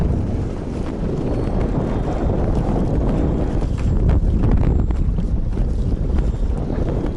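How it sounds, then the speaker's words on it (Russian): Strong, steady wind roars across a lake while fishing from a boat in an Old Believers' village area, a continuous loud gusting rumble with no talk. "Ветер сегодня, ребят, конечно, не дает"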